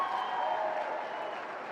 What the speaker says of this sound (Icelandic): það er klappað vel fyrir stelpunum